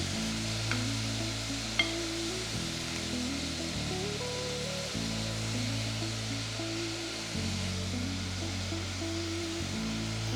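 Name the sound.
onions and pork fat pieces frying in pan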